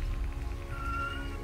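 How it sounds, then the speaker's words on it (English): A pet cat gives a drawn-out cry over a steady background hum, the wavering call rising and holding near the end. "I apologize for my cat's obscene cries."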